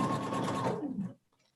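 Sewing machine stitching fabric in a dressmaking class, a fast buzzing run of stitches close by that slows and stops after about a second, followed by a few faint clicks.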